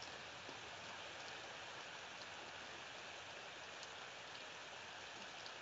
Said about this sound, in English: I think I'm hearing rain against the window right now, in real life.